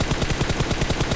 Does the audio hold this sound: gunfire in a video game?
yes